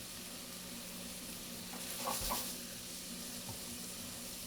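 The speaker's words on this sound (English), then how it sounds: "I can hear it that it's starting to sizzle again, which means that it's all set or almost dry." White wine sizzling in a hot pan as it cooks down nearly dry while making clam chowder, a steady soft hiss with faint bubbling, heard alone at low level.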